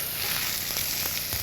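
Mushrooms sweating in a hot pan, stirred with a wooden spoon: a steady, fairly loud sizzling hiss with a few brief scraping strokes, no voices.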